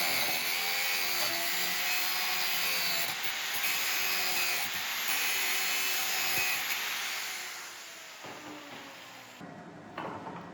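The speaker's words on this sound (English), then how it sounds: "I'm making a series of relief cuts straight down to the marker line." Steady hand sawing of relief cuts into the finger-groove area of a Damascus steel knife handle forged from car shock absorbers, a continuous rasping scrape that holds for most of the clip and eases off near the end.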